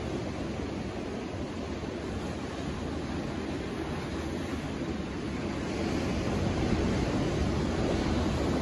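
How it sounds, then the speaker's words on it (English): Big ocean waves roll in and crash against the rocks at White Point as the tide comes in, a continuous broad wash of surf that swells slightly louder toward the end, with some wind in the background. "Just look at the power of that water coming in,"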